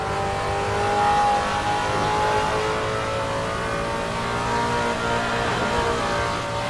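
Vintage Trans Am race car in Assetto Corsa, its engine held near full throttle with a steady, loud droning roar and slight pitch swells, close and continuous throughout with no talk.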